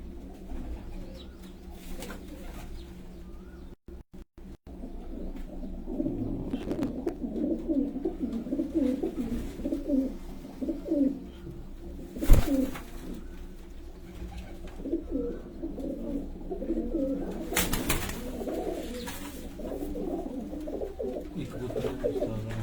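Domestic pigeons coo in a steady, overlapping murmur close by, with a few louder bursts and brief pauses; voices may be faintly present but no clear speech stands out.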